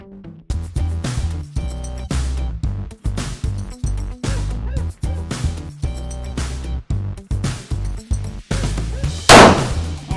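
Rapid series of loud pistol shots from a Tisas Zig14, a Browning Hi-Power style handgun, about a dozen sharp reports in quick succession at a shooting range, close and punchy with a louder burst near the end.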